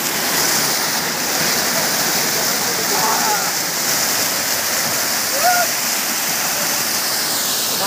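Steady, loud broadband rush of Borjhora Waterfall fills the scene without a break, with faint voices occasionally audible beneath the roar.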